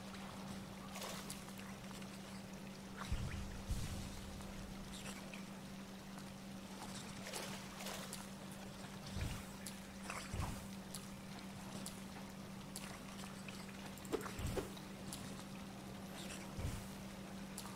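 Water ambience in the video game Hollow Knight, a faint lapping and trickling bed with a steady low hum and occasional soft splashes, quiet and continuous.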